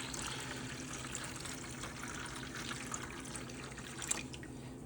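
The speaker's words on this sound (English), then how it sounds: "Let's add some more hot water here." Warm tap water is poured into a container holding tarnished silverware, giving a faint, steady trickle with small splashes and drips under a soft room hiss.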